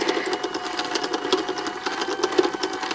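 A Boye electric yarn ball winder whirs steadily at high speed with a busy, rattling buzz and a faint rhythmic ticking, sounding a little strained.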